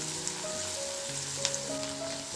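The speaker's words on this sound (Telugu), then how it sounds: "ఇప్పుడంతా ఇవి ద్వారగా వేపుకోవాలి." Onions, green chilies and curry leaves fry in a pan for a Kerala coconut fish curry. A soft, steady sizzle continues throughout with faint occasional crackles.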